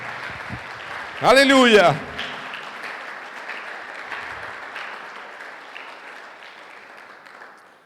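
A church congregation applauds steadily, the broad clatter of many hands filling the room while a voice calls out loudly over it near the start. The clapping carries on evenly and slowly fades toward the end.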